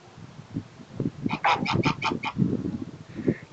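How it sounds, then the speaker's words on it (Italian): A burst of loud goose honks, several rapid calls in a row, with lower farmyard noise and bird calls around them. "Le papere sono contente della nostra presenza."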